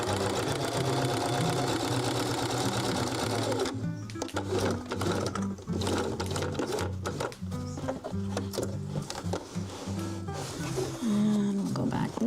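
Sewing machine stitching fabric with a needle, running in steady bursts of fast mechanical chatter that stop briefly and restart, loud and close, with some quiet talk in the room.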